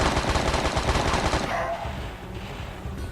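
Rapid machine-gun fire in Tomb Raider 3, a dense burst of close shots for over a second, then a softer, thinning rattle fading into background game noise, no talk.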